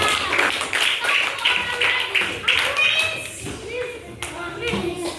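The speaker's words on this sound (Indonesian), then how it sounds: "Tepuk tangan sama si Aja." Children clapping hands together in a classroom, a burst of quick, loud claps mixed with taps that thins out, with children's voices and chatter around it.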